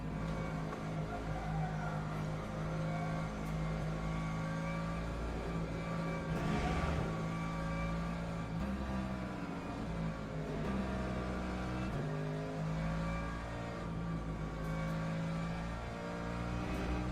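Race car engines roar continuously in the Le Mans Ultimate simulator, with a loud, steady engine note that shifts in pitch through gear changes and passing hypercars.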